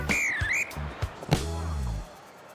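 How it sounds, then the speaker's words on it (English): A rugby referee's whistle gives a single warbling trill at kick-off, near and clear, followed by thumps and a short rising tone against a quiet field background. "Ref blows his whistle and we're off."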